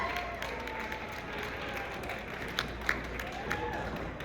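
Ballroom crowd applauds pro-am dancers at an Arizona dance competition, a continuous, moderately loud patter of clapping with a few sharper claps, while voices talk over it.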